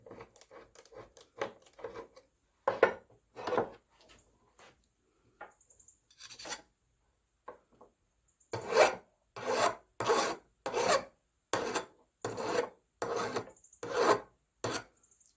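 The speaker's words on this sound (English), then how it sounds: "a little deburr on that edge right there." Hand filing deburrs the edge of a short engine rod from an International 6 HP Type M engine, with repeated rasping strokes: scattered short passes first, then a steady run of even, rhythmic strokes close up.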